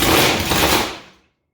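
A 1000 HP blown small-block Chevy engine in a front-engine dragster lets out a loud, broad blower surge, one close roaring burst of about a second that cuts off abruptly.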